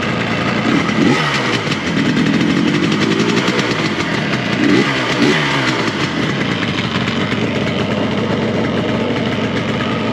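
A 1975 Yamaha RD350 two-stroke motorcycle runs steadily after a kick start, its loud, close engine holding a raspy idle throughout with slight swells in revs.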